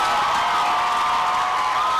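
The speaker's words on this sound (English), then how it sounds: "A round of applause as she comes" Applause and cheering from an audience at a commencement ceremony as Chef Lena Mogere comes forward, a steady, loud wash of clapping and crowd noise with no breaks.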